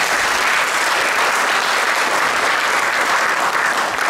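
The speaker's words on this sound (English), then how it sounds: "Please give them a round of applause." Steady, dense applause from a large audience in an auditorium, loud and continuous throughout without a break.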